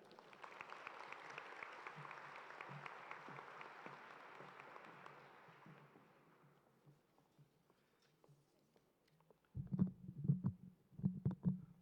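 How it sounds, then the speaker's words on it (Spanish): Audience applause at a university conference, a broad wash of clapping that fills the hall for several seconds, then thins out and fades, followed by a few scattered handling knocks and thumps. "para quien les pido un fuerte aplauso."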